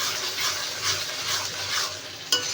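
Mutton curry with turmeric and salt being stirred in a pan, a continuous scraping and sizzling texture with one sharper clink near the end.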